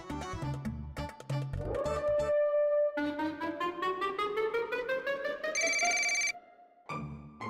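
Ringtone of an outgoing phone call: a loud, continuous electronic melody with a rising tone sweep and bright repeated chimes, close, no talking.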